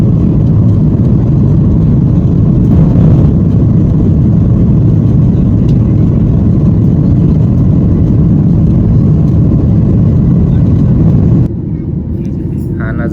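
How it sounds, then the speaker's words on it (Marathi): An airliner taking off from Mumbai drones loudly from inside the cabin, a dense steady low engine roar that holds for most of the stretch before dropping slightly near the end. "आमच्या विमानाने फायनली मुंबईवरून उड्डाण केला"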